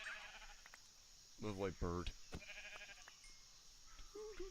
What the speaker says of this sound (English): But I need to kill some sheep.